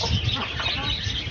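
A country-breed rooster kept in a rooftop poultry setup in Chennai clucks close by in a run of low, throaty, repeated calls.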